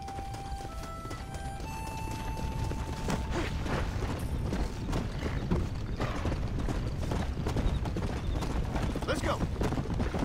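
Horse galloping in the Red Dead Redemption: Undead Nightmare video game, with rapid continuous hoofbeats, a whinny near the start and game music tones, all under steady close-up play.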